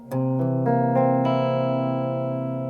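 A C dominant seventh guitar chord arpeggiated quickly from low to high strings, then left to ring out and slowly fade, bright.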